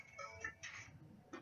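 A mobile phone rings faintly in a quiet room, a couple of short electronic tone bursts with a gap between them, with no talking over it.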